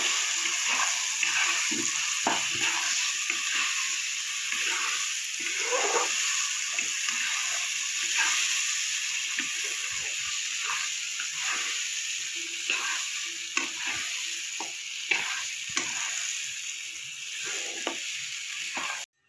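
Spice paste sizzles in hot oil as it is stirred into dhoka dalna, Bengali lentil cake curry, a continuous bright frying hiss with scattered scrapes and clicks of a spatula against the pan, close and steady.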